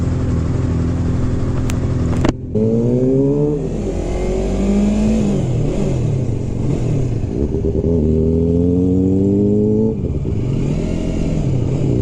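A loud motorcycle engine close by on a Texas ride, revving up through repeated rising gear pulls with a brief drop between shifts and a steady heavy rumble underneath, no talking.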